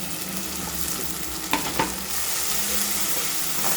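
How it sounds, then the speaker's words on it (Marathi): Chicken biryani marinade with coriander and mint fries in a pan, giving a steady close sizzle, with a couple of quick stirring scrapes partway through. "आता याला पण चांगलं तळून घेते."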